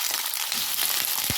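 Potatoes fry in hot oil tempered with red chili for a Bengali mixed vegetable dish, a close steady sizzle with a soft thump of tossing near the end.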